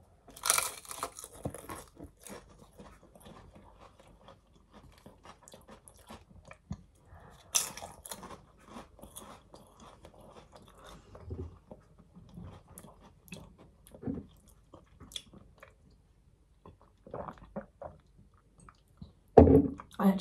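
Crunchy close-up chewing of an onion and cucumber salad from an Indian takeaway, a series of crisp bites and wet crunches with quiet gaps between, loud and near, with no talking.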